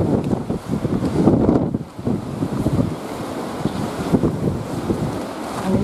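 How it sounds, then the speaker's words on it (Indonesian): Strong, gusting mountain wind near the summit of Mount Lawu during a storm, roaring steadily against the microphone, deep and rumbling, with surges and brief lulls throughout and no voices. "ini suara angin bisa Anda rasakan."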